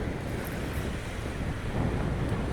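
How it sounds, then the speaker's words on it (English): Chaotic ocean waves churn in a constant rough wash of surf, loud and unbroken, with heavy wind buffeting the microphone throughout. "I'm gonna splice in some video of the chaotic waves right now"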